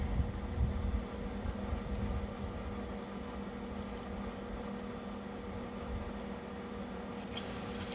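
Brake cleaner sprays steadily into a Briggs & Stratton small-engine carburetor, a continuous close hiss that holds for several seconds with a brighter burst near the end.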